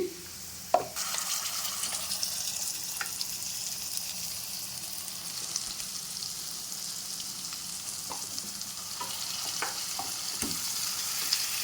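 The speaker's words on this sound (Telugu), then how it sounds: "ఇప్పుడు చికెన్ వేసుకోవాలి ఇప్పుడు బాగా వేగిపోయింది" Chicken fries in a pan with green masala, dhaba-style, giving a steady broad sizzle with scattered crackles and occasional stirring clicks from a spoon, after a sharp knock near the start.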